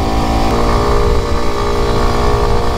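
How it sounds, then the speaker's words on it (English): A 125cc motorcycle engine labours up a hill, a loud, continuous, strained drone heard close throughout. "Still 125 is struggling to get up this hill."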